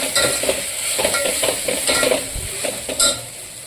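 Chopped tomato sautéed in a pan for chicken pulao, with a spoon scraping and stirring in uneven strokes over a soft sizzle and a few clinks of metal on the pan.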